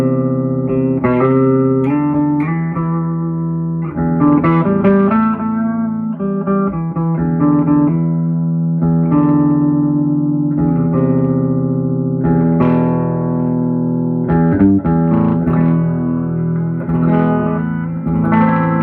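Electric guitar playing chords and single notes through a 1976 Silverface Fender Twin Reverb amp with reverb off, dry and close with no reverb tail, steady and moderately loud throughout.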